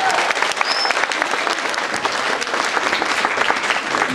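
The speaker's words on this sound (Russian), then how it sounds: "Ирина Леонова, ваши аплодисменты." Sustained audience applause fills a gala concert hall after a folk song performance, dense and steady at full volume throughout, with a faint voice briefly audible beneath the clapping.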